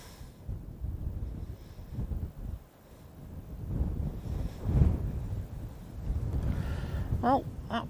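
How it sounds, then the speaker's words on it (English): Gusty wind buffeting a microphone outdoors at Manchester Airport, a steady low rumble that swells and dips through the clip, with a brief faint tonal whine near the end. "that breeze is certainly getting up"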